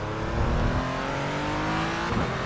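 Porsche Cayman GT4 engine in the iRacing simulator, revving hard as the car accelerates out of a corner at Sebring, a steady loud engine drone with rising pitch and no voices.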